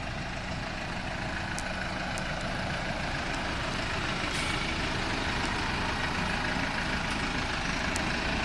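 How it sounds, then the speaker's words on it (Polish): A new, never-used tractor pulls away on a test drive, its diesel engine rumbling steadily and heavily at close range for several seconds, with faint high clicks and ticks over the engine noise. "Ciągnik udaje się na jazdę próbną."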